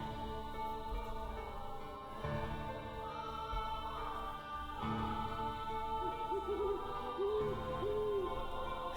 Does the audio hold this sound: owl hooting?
yes